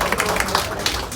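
Studio audience on a 2003 talk show breaks into brief clapping, a dense burst of close, loud applause filling the short moment with no talk.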